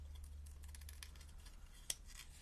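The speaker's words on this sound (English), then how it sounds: "I am fussy cutting an owl." Scissors snip quietly around a stamped paper owl, a quick series of soft, close cuts ending in one sharper click, with no talking.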